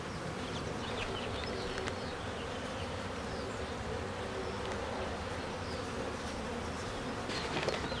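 A swarm of honeybees, clustered and starting to build comb, buzzes steadily and densely throughout, a continuous close drone with no one speaking.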